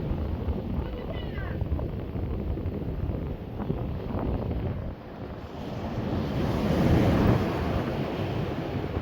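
Surf rolling in and steady wind buffeting the microphone on Skipsea Beach, an eroding coastline, with a continuous broadband roar that swells louder toward the end.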